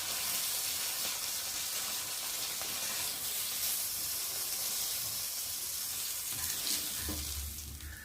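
Bhola fish frying in hot oil for a spicy fish curry, a steady dense sizzle running close and loud throughout, with a low thump and easing near the end.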